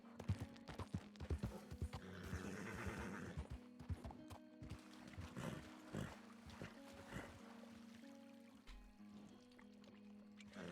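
A horse in the video game RedM clip-clops and whinnies at a watering spot in the town of Moonstone. The hooves and snorts play quietly over a steady low game ambience.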